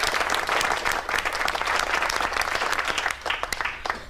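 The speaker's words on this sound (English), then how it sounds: "I would like to lead a big round of applause for Yvonne" A crowd at a social club gathering gives a big round of applause for its departing president. The clapping is steady, dense and loud and lasts throughout.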